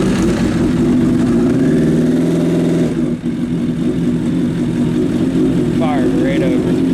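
A Suzuki Bandit 1200 motorcycle engine runs loud and close with a steady, rumbling idle that holds throughout; a short dip near the middle and some faint background sounds are audible but no clear speech.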